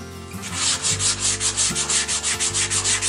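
Sandpaper of 120 grit rasps against olive wood spinning on a lathe in quick rhythmic strokes, a steady hum beneath the repeated scratchy pulses, close and fairly loud, no talking.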